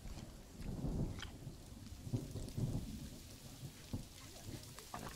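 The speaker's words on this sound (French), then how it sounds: "Ah, un orage qui s'amène." Thunderstorm in the zoo-building game Planet Zoo: steady rain hiss with several low thunder rumbles and cracks rolling through, fairly loud and with no talking over it.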